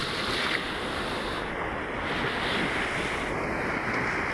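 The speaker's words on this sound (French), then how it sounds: "il ne faut pas que les vagues vous rattrapent" Ocean waves break on a shore in a continuous loud roar of surf, with wind noise buffeting the microphone and no speech over it.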